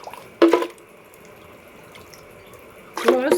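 Boiled carrots and their cooking water are poured into a blender, giving two short splashing gurgles at the start and end with a faint, steady trickle between.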